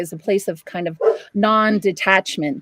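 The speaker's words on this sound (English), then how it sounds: "my apologies for my dog, everyone." A pet dog barks and yips in short bursts close by, sounding between and under a person's ongoing speech.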